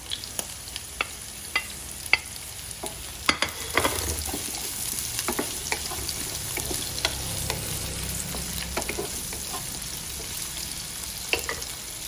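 Chayote sizzling and being stirred in a hot pan, a steady frying hiss with scattered sharp crackles and occasional scrapes of a utensil, close and continuous with no talking.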